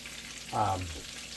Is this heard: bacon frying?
yes